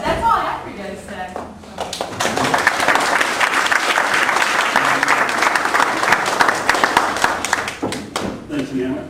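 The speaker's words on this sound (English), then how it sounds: "let's hear another round of applause" A live audience claps after a stand-up comedy set, a dense, loud wash of applause that swells and holds steady. A voice talks briefly at the start and again near the end.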